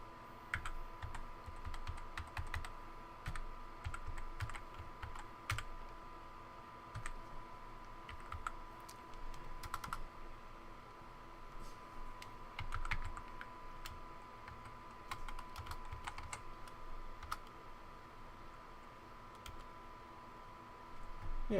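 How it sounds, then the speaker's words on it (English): Fingers type on a computer keyboard while entering commands on an iMac G5, a long faint run of uneven key clicks and taps over a low steady hum. "I'm typing it out exactly as it's written on this"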